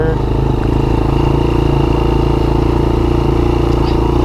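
A Honda FourTrax TRX90 ATV engine with a two-cycle motor idles steadily in third gear, a close, loud, even buzzing drone with no talk.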